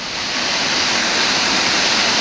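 A waterfall in Kanchanaburi, Thailand roars nearby as a loud, steady rush of water, dense and unbroken throughout, with nothing else audible.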